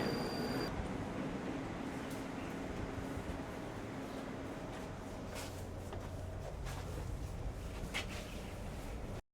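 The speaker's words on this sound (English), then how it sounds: "here comes our train" A Moscow Metro train arriving at a station rumbles steadily nearby with a broad mechanical roar and faint squeals, continuous for several seconds before cutting off abruptly.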